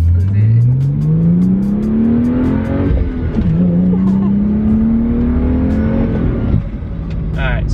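BMW 135i on its stock tune accelerating hard, a loud close engine note climbing steadily through the gears with a shift dip partway, running continuously with no talk.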